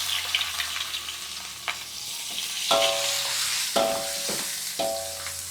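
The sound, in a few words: garlic and anchovies frying with bamboo shoots in a pan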